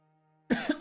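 A single close cough bursts out after a moment of near silence, two or three quick harsh pulses in a row.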